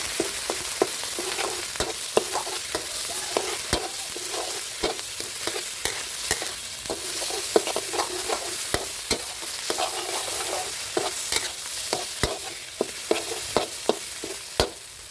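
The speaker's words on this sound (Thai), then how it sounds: "ผัดกับน้ำมันให้หอมเลยนะครับผม" About 150 grams of red curry paste is stir-fried in vegetable oil for a Thai pork and pea eggplant curry, giving a constant sizzle with frequent scraping spatula strokes against the pan.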